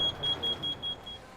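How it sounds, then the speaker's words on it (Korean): A carbon monoxide alarm sounds inside a closed tent with burning charcoal. It gives a rapid series of short, shrill beeps in a regular pulsing rhythm, close and clear against faint background noise. "일산화탄소 경보음이 울립니다"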